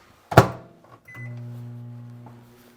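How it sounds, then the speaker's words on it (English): A microwave oven door thunks shut and the oven starts humming steadily, heating caramel and hot fudge to soften them, the hum fading slightly toward the end. "my caramel and my hot fudge that I'm gonna nuke in the microwave"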